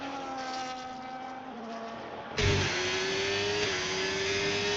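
A Ferrari Formula 1 car in Miami qualifying screams through a sequence of corners, its high engine tone dipping and rising with gear changes, then a sharp cut to a louder, closer onboard whine held steady.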